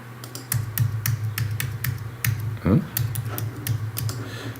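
Computer keyboard keys tapped to play notes through musical typing in Logic, a run of sharp, close clicks in an uneven rhythm, with a short tonal blip sounding partway through.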